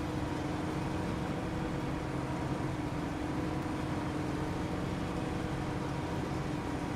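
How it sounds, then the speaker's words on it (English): Low, steady engine drone from a heavily loaded truck straining in the Snowrunner video game, a dense unbroken rumble with constant broadband noise and no pauses for the whole stretch. "I can hear the truck trying hard."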